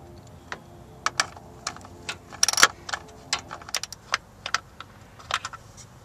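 A 5/16 socket works a screw out during an air intake install on a 4.0L V6 Mustang, giving a series of sharp, irregular metallic clicks with short pauses between them.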